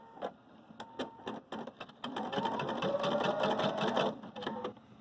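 A Viking Designer Brilliance 80 sewing machine runs an embroidery stitch, a steady rapid mechanical chatter that starts in short bursts and then holds louder and continuous for a couple of seconds before easing off, close up.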